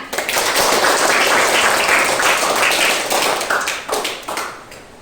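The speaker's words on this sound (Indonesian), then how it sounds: "Iya, tepuk tangan." Classroom applause from a group of junior high school students, a dense, steady patter of many hands clapping together near the listener for several seconds before thinning out and tapering off toward the end.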